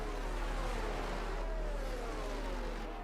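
A Formula racing car engine in a racing video game screams at high revs, a steady loud whine with falling pitch sweeps as the car passes through the final corners toward the line.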